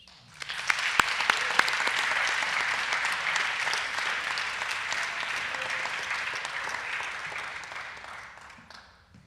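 An audience at a school senior thesis session applauds warmly for a speaker's sister. The sustained clapping of many hands swells quickly, holds, and slowly fades out.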